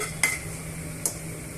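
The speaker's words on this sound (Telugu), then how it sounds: "పోపు దినుసులన్నీ వేసుకున్న తర్వాత ఈ పోపు దినుసులన్నింటినీ కూడా ఇలా ఫ్రై చేసుకోవాలండి" Tempering spices and dried red chillies fry quietly in a pan, a low steady sizzle under two sharp metallic taps of a spoon against the pan, spaced nearly a second apart.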